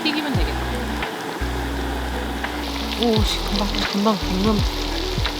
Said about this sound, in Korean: 네 개씩 튀기면 되겠다.